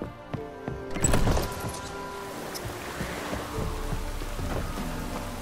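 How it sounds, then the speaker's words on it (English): Rain falls in The Witcher 3: Wild Hunt as a soft, steady patter with a few sharp knocks and low thuds early on, quiet and continuous with no talking. "Looks like rain."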